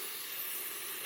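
A steady, strong hiss of steam pours from an Amazon espresso steam wand, continuous and close, with no voices.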